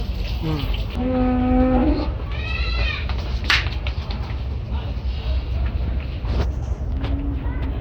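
Large cattle, bulls over 900 kg brought for Qurbani sacrifice, at Gabtoli livestock market; a brief lowing call rises near the start over a steady wash of crowd chatter and market bustle.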